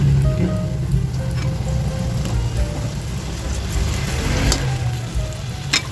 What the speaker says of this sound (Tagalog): At ito lang guys ay atin siya munang tatakpan para mabilis maprito yung ating talong.